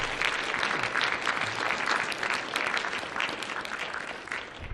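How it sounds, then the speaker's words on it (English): Sustained applause from a crowd, dense steady clapping throughout that fades a little toward the end. "I just want to start off by giving you at least some applause for that"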